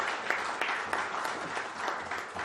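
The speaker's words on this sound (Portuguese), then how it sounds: "As palmas estão liberadas agora." A crowd applauds steadily, with dense, even clapping that sounds somewhat distant and carries on throughout.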